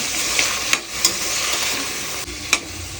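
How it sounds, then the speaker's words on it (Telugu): Carrot, potato and other vegetables fry in a pan with a steady, close hiss, broken by a few light scrapes and taps of stirring. "ఇవన్నీ వేసుకుని దోరగా వచ్చే వరకు ఫ్రై చేసుకోవాలి."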